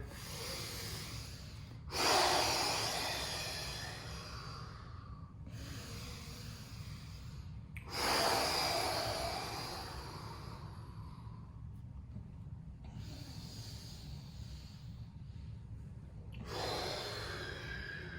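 Heavy, deliberate breathing during an all-levels mountain core yoga session, with three long audible exhales or snort-like breaths spaced several seconds apart over a quiet, low background hum.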